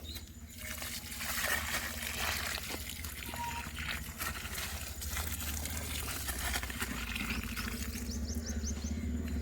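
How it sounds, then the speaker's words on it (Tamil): Water is poured onto soil around a newly planted flowering plant in a garden, a continuous close trickle and splash that runs steadily for several seconds. "இதுக்கு நம்ம தண்ணி ஊற்றிக்கலாம்."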